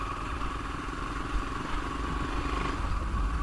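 A motorcycle engine drones steadily through a relaxed ride, a constant close, mid-pitched hum with a slight rise toward the end and no speech.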